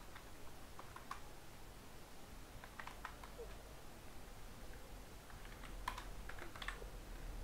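Keys tapped on a computer keyboard to enter a search, in short irregular bursts of clicks spread across the stretch, fairly close and soft over a steady low background hum.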